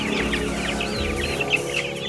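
Giriraja hen clucking nearby in a chicken yard, a run of short repeated clucks over a steady low background hum, close and fairly loud.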